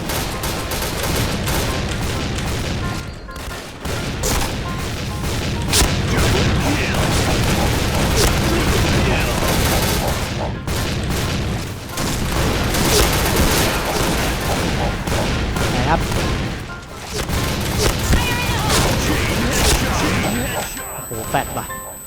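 Gunfire in the Point Blank online shooter, with a three-star dual-wielded shotgun firing in a dense, continuous barrage of loud blasts and bursts, mixed with game sounds and people talking throughout.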